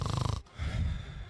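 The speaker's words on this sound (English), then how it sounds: "Snoring." A single snoring sound played as a clue in a guessing game, with a loud rough inhale, a brief pause, then a longer rumbling snore, close and clear with no talk.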